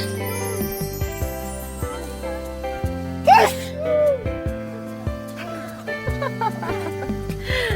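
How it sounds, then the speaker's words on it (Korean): A father in a neighbourhood park gives one sudden, loud sneeze that bursts out over ongoing background music and then fades quickly. "재채기 한번 요란하게 하십니다, 아빠."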